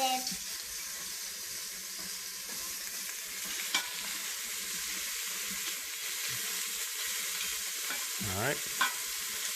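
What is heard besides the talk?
vegetables sautéing in an Instant Pot for borscht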